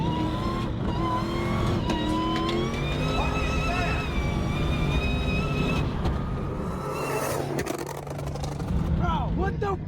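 A tuned Dodge SRT Hellcat Redeye with an aftermarket intake revs hard and accelerates through the gears, a loud continuous engine roar with whine, while people talk excitedly over it.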